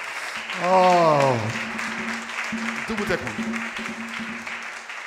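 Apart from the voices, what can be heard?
audience applause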